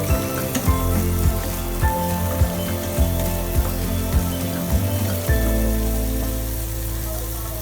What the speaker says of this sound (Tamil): இப்போ இது எல்லாத்தையும் நல்லா கிளறி விட்டுட்டு வதங்க விடுங்க